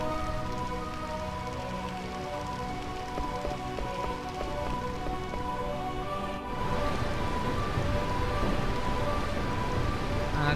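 Steady rain falls in Burmecia in Final Fantasy IX, a constant dense patter on surfaces with soft music underneath, growing slightly heavier and rougher partway through.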